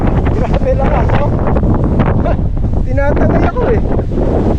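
Heavy wind at the Pililla wind farm blasts against the microphone in a loud, continuous rumble, and a voice speaks faintly beneath it.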